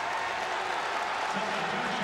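Basketball arena crowd at a college game between Arkansas and Vanderbilt, a steady broadband roar of cheering and applause that holds at an even level throughout, with a commentator's voice faintly mixed in.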